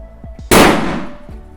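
A single sharp, loud gunshot from a rifle with a thinned-down bolt, a hard crack that rings and decays over about a second, with a faint background voice before and after.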